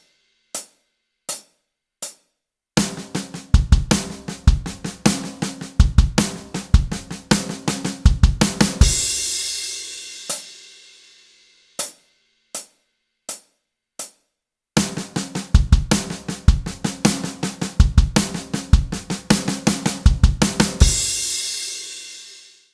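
A drum kit plays two passes of a fill built from six-note groupings in 32nd notes. Each pass opens with a few sparse single hits, then a rapid, dense run of drum and cymbal strokes that ends in a ringing crash.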